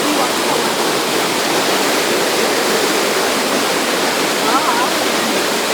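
Roaring water of Victoria Falls, a dense, loud, unbroken rush close by, with faint voices barely audible beneath the torrent.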